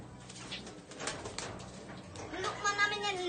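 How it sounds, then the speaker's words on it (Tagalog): A pigeon cooing in a loft, soft low coos with some wing flutter, close by under people talking. "Kalapati!"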